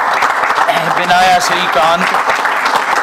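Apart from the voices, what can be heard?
standing ovation applause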